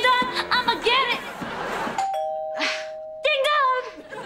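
In a TV sitcom scene, a two-tone doorbell chime rings out clearly. Excited voices talk before it, and a voice also imitates the ding-dong sound around it.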